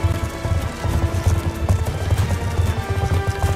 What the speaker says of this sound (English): Alright, so cool, we can sprint this horse.